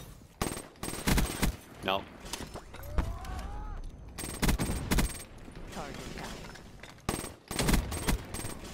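Gunfire in the Black Ops 3 video game: sharp, loud bursts of shots in rapid clusters throughout, with a player briefly talking between them.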